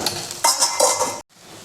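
A metal lid set back onto a cooking pan while onions cook for a Marathi-style sandgya and vadi curry, giving a few close clinks and a scraping clatter, then a quiet sizzle underneath.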